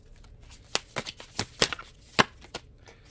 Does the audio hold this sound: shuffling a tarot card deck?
yes